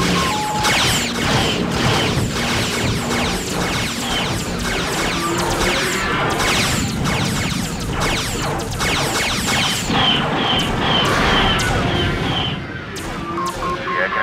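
Loud, continuous video game battle noise from Wing Commander 4 as an enemy target is destroyed, with booms, crashes and rushing whooshes, followed by sharp clanking impacts near the end.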